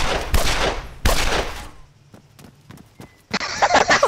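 Two loud, sharp gunshot blasts from Arma 3, each followed by a decaying tail, then quiet scattered clicks and steps before a harsher rushing burst at the end.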